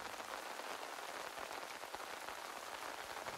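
Rain falling on fabric, a steady dense patter of drops heard alone without pause throughout.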